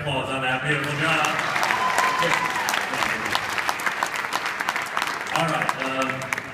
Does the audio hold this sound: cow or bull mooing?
no